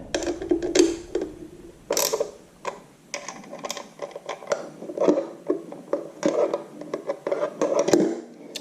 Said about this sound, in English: We're going to do a different wrench. Got a socket.